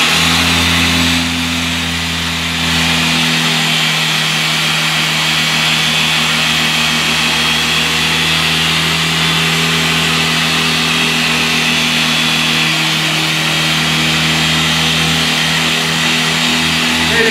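A power polisher works the clearcoat of a Porsche GT2 at speed 5 under medium pressure, a loud steady motor whine with a constant hum, close and continuous after a brief dip near the start.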